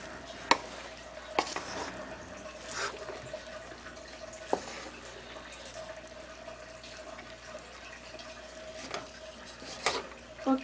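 Somali rice with goat meat being stirred in a pot: soft scraping and clinking of a spoon against the pot at intervals, with a faint sizzle or bubbling beneath, quiet and close.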